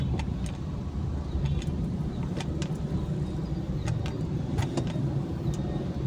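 A car with a 1.5-litre engine idles and creeps through heavy city traffic, a steady low engine hum inside the cabin with faint clicks and ticks over it.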